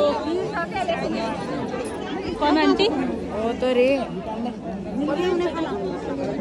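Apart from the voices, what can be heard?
chattering crowd at Maker Sankranti festival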